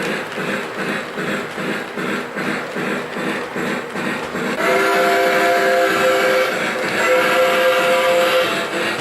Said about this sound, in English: Dispatcher, train is outbound.